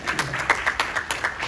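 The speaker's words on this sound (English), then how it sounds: "So let's give her a round of applause." Scattered clapping from a small panel-discussion audience, individual claps landing in an uneven patter at moderate loudness, with some voice murmur underneath.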